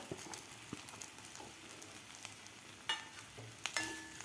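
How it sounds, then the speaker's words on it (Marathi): Boiled potato pieces stirred in a pan with golden-browned peanuts for a fasting dish, giving a faint scraping and soft sizzle with a few sharper spoon clicks near the end, no voices. "व्यवस्थित आपल्याला हलवून घ्यायचं आहे"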